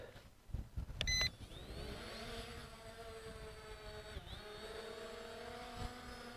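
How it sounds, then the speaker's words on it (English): A ZLL SG906 MAX drone spins up its motors and lifts off, preceded by a few sharp clicks and short beeps, then settles into a steady close, high-pitched whine with a brief dip in pitch partway through. "Okay, I'm going to unlock and hit takeoff."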